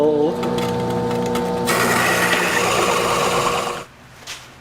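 A dull unibit step drill grinds steadily through metal, a close, continuous whirring rasp lasting a couple of seconds before it stops and the room goes quiet.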